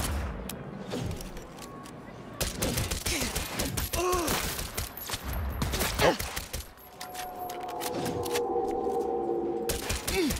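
Explosive rounds fired in the video game Cyberpunk 2077 crack out in rapid, irregular bursts of sharp gunfire with metallic clatter, loud and close, mixed with game effects and occasional voice sounds.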